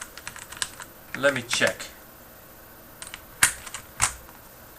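A mechanical keyboard with Cherry Brown tactile, non-clicky switches is typed on in short bursts of soft clacks with brief pauses, while a voice speaks briefly nearby.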